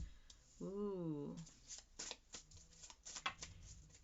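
Tarot cards are shuffled in a series of quick papery riffles and taps, close and fairly faint, after a short hummed or sung vocal sound at the start.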